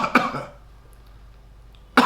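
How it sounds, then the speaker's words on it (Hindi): A short burst of two or three harsh coughs comes at the start, a demonstration of a paroxysmal cough, followed by near silence and another cough onset at the very end. "इसी तरह प्रोक्सिस्मल खांसी होती है"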